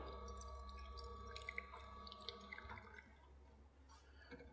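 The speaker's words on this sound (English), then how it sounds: "Fill it with a bit of water." Water trickles and drips into an espresso machine portafilter being cleaned, a quiet close splashing fill with a faint steady hum underneath.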